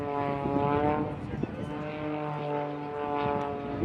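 An aerobatic display plane at the Blackpool Airshow drones overhead with a steady, harmonic propeller-engine tone that rises and falls gently as it manoeuvres, loud and continuous with no talk.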